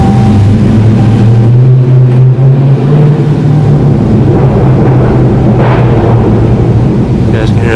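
A Dodge Scat Pack with a 392 engine and a deleted muffler accelerating in second gear, heard from inside as a loud, deep exhaust drone that rises steadily in pitch, with wind and road rumble and no talking.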